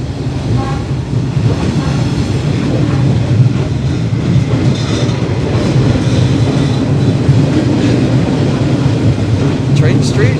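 A train rolls past very close through Hanoi's narrow Train Street, a loud, steady rumble and clatter filling the whole stretch, with crowd voices faintly mixed underneath.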